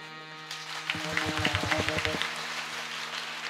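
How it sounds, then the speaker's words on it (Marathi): Audience members clap in a quick rhythmic burst at a comedic Marathi kirtan, the claps falling in a tight run over a sustained musical tone and fading out after about a second. "टाळी वाजूच वाटली तर वाजवायची, पण जर वाजवलीच तर 2 किलोमीटर आवाज गेला पाहिजे."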